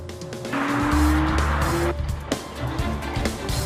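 Porsche 911 sports car driven hard, with a loud, close engine roar and a drawn-out tire squeal that swells and then eases into rough engine noise.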